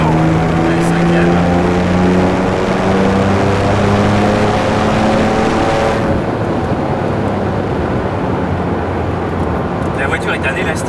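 A Ruf RT 12 R sports car pulls hard in fifth gear, its engine note climbing steadily in a loud, close, continuous roar with heavy road and wind rush, then easing off near the end.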